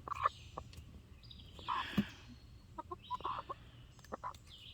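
Chickens and turkeys cluck and call in a backyard flock on a hot day, with scattered short clucks, a few louder squawks and gobble-like bursts at moderate distance, no talking.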